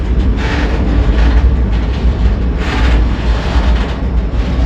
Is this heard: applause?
no